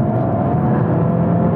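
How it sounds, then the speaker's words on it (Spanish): A Hyundai Kona N 2022 engine pulls hard at full throttle in Sport mode, a loud, steady, dense drone held close and constant throughout with no talk over it. "cuando pisamos a fondo el coche ya tiene una respuesta muy buena, y eso que vamos en modo Sport"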